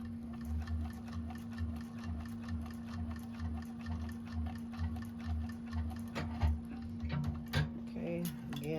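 A sewing machine back-stitches a bag seam for an Augusta bag, running in a steady, close mechanical rattle with a constant hum and rhythmic ticking throughout.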